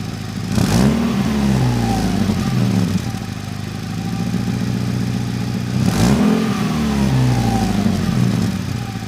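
Steady engine hum from inside a BRZ, with two rising revs that swell and settle back to a low rumble.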